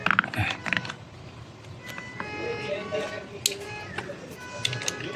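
Wrench tightening the terminal nut on a car battery, creaking ratchet-like clicks and metallic scrapes up close, with someone talking over the work.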